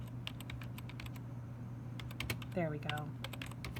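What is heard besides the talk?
typing on a computer keyboard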